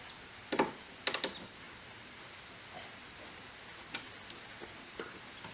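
Torque wrench being set on a Jaguar XK8, a few faint sharp clicks and ticks scattered among quiet background, including a short quick cluster of ratcheting clicks near the start.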